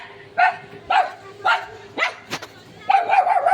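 A dog barks in short, sharp bursts, five or six loud woofs spaced about half a second apart, close by in a household setting, with a faint voice underneath.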